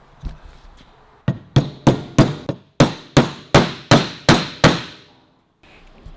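A hammer drives a hinge pin into the door of a 1934 Austin 10, about a dozen sharp metallic blows in a steady rhythm, close and loud, with a brief pause after the first few strikes.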